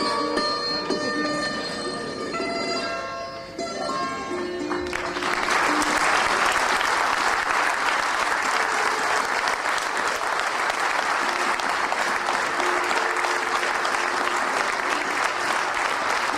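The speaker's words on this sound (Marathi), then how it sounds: "आपण इतके उत्स्फूर्तपणाने टाळ्या वाजवतात." An audience bursts into loud, sustained applause after music fades, dense clapping from many hands continuing steadily for over ten seconds.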